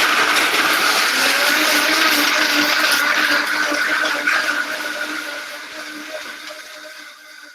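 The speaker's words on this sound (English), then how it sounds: "I put all of that into my Vitamix, my best friend. Turn it on." A Vitamix blender whirs steadily at full speed while pureeing dates and other ingredients, a constant high-pitched motor roar that gradually tapers off toward the end.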